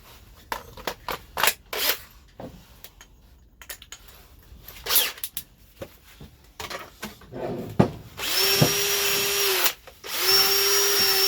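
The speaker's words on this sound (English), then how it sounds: "I've got another wire brush which I think is a bit more abrasive, so hopefully that's going to clean them up nicely." A wire brush scrubs old Classic Mini parts in short scratchy strokes, then a power tool spins up twice in sustained whirring bursts near the end.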